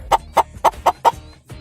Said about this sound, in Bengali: হুট করে দেখলাম চলে এলো একটি মুরগি